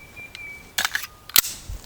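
A Sig Sauer P226 Mk25 pistol fires mixed remanufactured and steel-case ammunition at a shooting range, a few sharp reports in quick succession, the last one loudest, with no talking over them.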